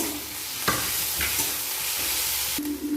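Ginger and garlic paste stirred into fried onions in hot oil for a spicy paratha breakfast dish, a steady close sizzle with a few scraping strokes of the spoon, no voices.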